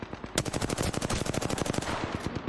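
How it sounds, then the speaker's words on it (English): Rapid automatic gunfire in Apex Legends fires about two dozen sharp shots in a quick, even rhythm, loud and close, then stops abruptly. "I'm taking fire"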